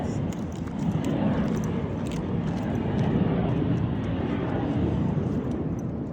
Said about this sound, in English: Sorry for the jet noise.